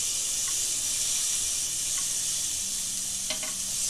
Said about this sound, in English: Let's hear the sizzle when it hits the grill.